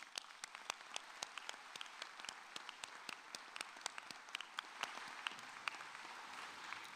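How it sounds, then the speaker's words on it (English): Audience applause at the Rutgers School of Dental Medicine 2022 convocation, honoring the graduating class: steady, moderately distant clapping with crisp individual claps standing out throughout, no voices. "You and your class officers deserve a round of applause"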